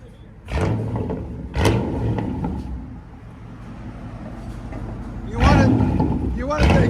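A Chevy Tahoe 5.7L V8 engine roars through several loud exhaust revs separated by quieter idling, close by, with voices talking between the bursts.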